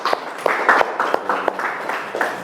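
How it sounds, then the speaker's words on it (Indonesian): Applause from a class audience at a teaching performance session, scattered hand claps that come in uneven bursts, fairly close, with some voices underneath. "Terima kasih, tepuk tangan."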